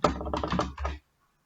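Quick burst of keystrokes on a computer keyboard while code is typed during a programming lecture, close and clear for about a second before falling silent.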